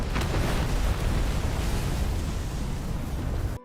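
A loud, roaring explosion blast fills the air with a dense rumbling burst that holds for a few seconds, then cuts off abruptly.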